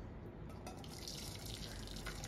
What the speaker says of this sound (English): I'm going to sterilize my spoon with hot water.